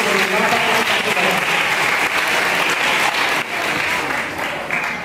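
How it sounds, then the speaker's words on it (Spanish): Students and families at a school English festival give a loud, sustained round of applause, dense clapping that holds steady and then eases slightly near the end, with some voices mixed in. "Yo quiero que para todos ellos le den un fuerte aplauso por su gran esfuerzo y por su gran participación."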